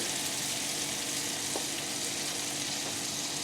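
Butter sizzles and browns steadily in a pan, a continuous dense hiss with no pauses, close and even in level throughout.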